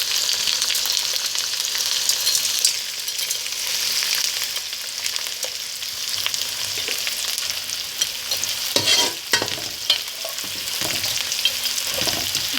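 Gond, edible gum, fries steadily in hot oil with a dense, continuous sizzle, while a spoon scrapes and stirs through it, adding brief louder clatters toward the end.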